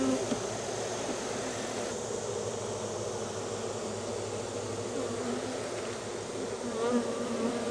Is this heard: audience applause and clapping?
no